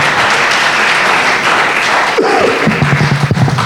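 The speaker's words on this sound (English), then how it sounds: "Also give a round of applause to the caciques, as well as the elder brother, Jose Batuet." Audience clapping at a Taíno survival and identity event in 2017, steady applause that loosens into a few scattered thumps and taps toward the end.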